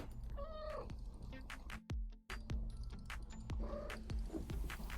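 A cat meows several times close by, short plaintive cries spaced irregularly, with some sharp clicks and small handling noises between them.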